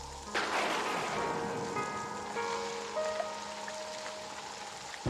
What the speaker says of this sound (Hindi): बारिश बहुत ज़्यादा हो रही है